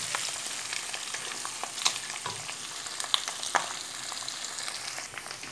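Pork rinds (torresmo) fry in a pan with a steady hiss and scattered sharp crackles and pops, fairly quiet and close, with no voices.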